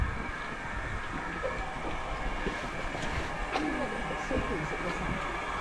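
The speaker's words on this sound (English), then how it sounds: "I think it would be nice to get a quick view of the train" A steam train rolls along a heritage railway with a steady, moderately distant rumble and faint clatter of wheels, as voices talk quietly over the top.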